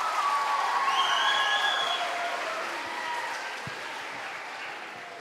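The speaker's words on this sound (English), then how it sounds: "Can we give him a round of applause?" Crowd applause for a guest judge at a school house haka competition, a broad wash of clapping that gradually fades, with faint whistles or cheers above it.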